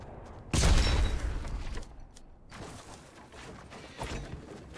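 Cannons fire in a video game, a loud sudden boom followed by a decaying crash, then a second quieter blast and a smaller thud later, with no talk over them.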